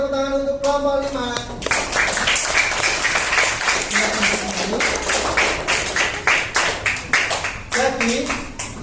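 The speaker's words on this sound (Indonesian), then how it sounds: "Beri tepuk tangan untuk kelompok 5." A classroom breaks into loud applause for a student group after their presentation, many hands clapping in a dense, uneven patter that rises, dips and fades, with a voice speaking briefly at the start.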